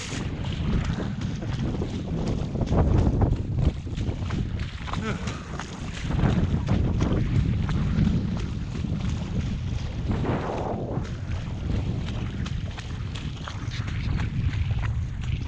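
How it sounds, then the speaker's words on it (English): Gusty wind buffets the microphone on a hillside walk near Derwent Water, a loud continuous rumbling roar that swells and eases in waves. "the wind's getting up"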